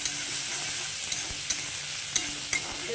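Chopped onion fries in a pan while being stirred for a bitter gourd dish, giving a steady close sizzle with occasional light scrapes and clicks of the spoon.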